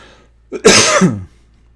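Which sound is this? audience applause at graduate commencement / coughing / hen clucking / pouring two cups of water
coughing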